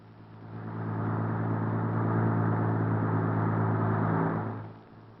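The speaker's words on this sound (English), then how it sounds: "the Bailey Bridge is open to military traffic" Military vehicles crossing a Bailey Bridge in wartime Italy, a steady engine drone swelling in, holding for several seconds and fading away at the end, with no voices.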